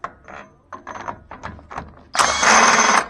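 An impact gun backs a nut off its threads during a sawmill build, starting with a few short clunks and taps and ending in a loud, close, sustained whirring burst of about a second.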